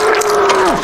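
A bull on a cattle ranch gives one loud, close moo lasting under a second, with the pitch dropping at the end, alone without talk.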